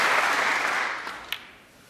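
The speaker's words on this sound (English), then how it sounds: "he gets the applaud of this crowd here" Snooker crowd at the Barbican applauding a century break by Stuart Bingham in a UK Championship semi-final, a full, even wash of clapping that fades gradually toward the end, with a brief sharp sound near the close.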